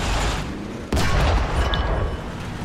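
A regular tank cannon fires once in War Thunder tank combat, a sudden loud blast that cuts into steady rumbling battle noise and leaves a dense roaring tail.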